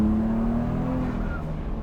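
A BMW 135 runs hard on a race track, its engine note rising steadily in pitch as it accelerates through a short, loud, continuous pull.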